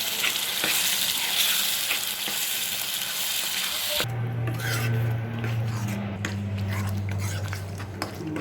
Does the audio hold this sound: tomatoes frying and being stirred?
yes